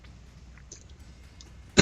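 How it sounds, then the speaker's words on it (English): A single sharp cough bursts close to the microphone near the end, following a stretch of quiet background sound during a WildStar dungeon run in the Ruins of Kel Voreth. "I don't mean to be coughing at you"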